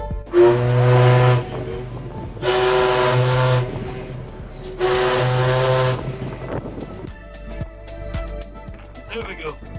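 Steam whistle of the paddle steamer PS Waverley as it departs Campbeltown Loch: three long, loud, evenly spaced blasts, followed by quieter deck and engine ambience.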